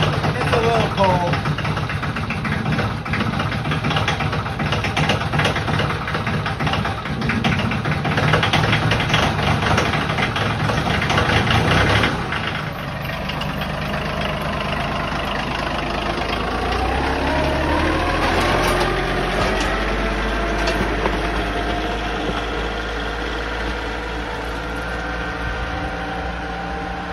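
A truck engine runs steadily while plowing heavy snow on a cold day, a loud, continuous low rumble and drone that shifts in pitch midway as the load changes.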